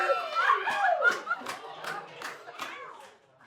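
Wedding reception crowd applauding at a country club, steady clapping mixed with chuckles and voices, loud at first and thinning toward the end.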